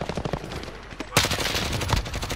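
Call of Duty Warzone gunfire erupts suddenly after a quieter stretch. Dense, loud automatic bursts rattle close by for the rest of the moment, with faint voices in the background.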